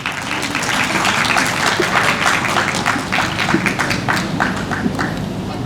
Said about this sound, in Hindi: आप इनके लिए तालियां नहीं बजाएंगे?